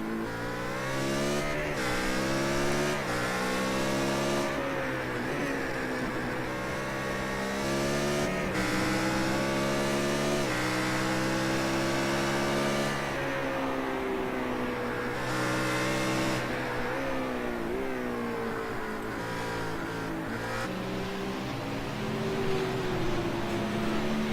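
Race cars roar continuously through a broadcast auto race, engines holding a loud, steady drone with shifting pitch as they rev and accelerate, with no talk over them.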